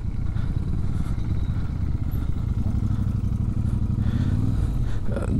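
A motorcycle rides along a wet, slippery mountain road, its engine droning steadily up close with tyre and road noise rumbling underneath, continuous and unbroken.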